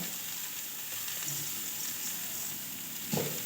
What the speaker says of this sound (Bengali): ভাজা ভাজা হয়ে গেলে শেষে দিয়ে দেবো একটু চিনি